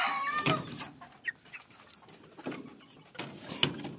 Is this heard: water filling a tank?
no